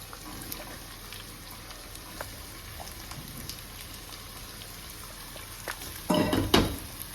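Onions frying in a pan on a medium gas flame for Punjabi-style chicken curry make a steady, low sizzle. A louder burst of frying and clatter comes near the end.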